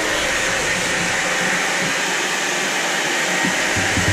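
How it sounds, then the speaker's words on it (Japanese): A hair dryer runs steadily and loudly throughout, a continuous close airy whoosh with a constant motor hum. "ドライヤーしてん。"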